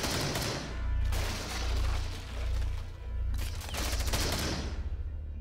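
Sustained automatic gunfire in Rainbow Six Siege, loud and dense with rapid bursts across the whole stretch, pausing briefly around the middle before another heavy volley.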